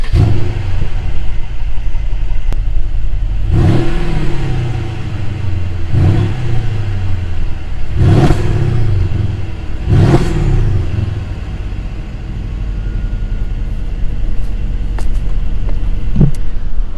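A Mercedes-Benz CLS550 engine starts and idles loudly, then revs sharply four times in spaced bursts, each rising and falling back to a steady idle.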